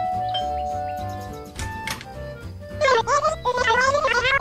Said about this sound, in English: Lucy arrives at the next cabin and rings the doorbell.